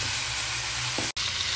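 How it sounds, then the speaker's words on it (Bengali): Potato pieces frying separately in hot oil in a pan for a beef curry, a steady, close sizzle with a brief stir and a short dropout near the end. "এখানে আমরা আলুটাকে একটু ফ্রাই করে নিচ্ছি আলাদাভাবে"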